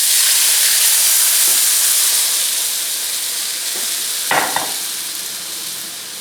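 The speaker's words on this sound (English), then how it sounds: "So now I want to deglaze the pan. So I'm going to add 1 3/4 cups of beef stock." Beef stock sizzles and hisses in a hot skillet as the pan is deglazed, a steady bright wash of steam close up, with a few soft scraping knocks.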